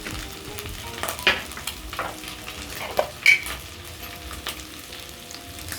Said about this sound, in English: So as my pork sears